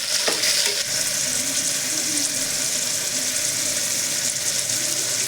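Tomatoes being stirred into a hot frying pan for millet khichdi, a steady loud sizzle with scraping stir strokes near the start, continuous and close with no talk.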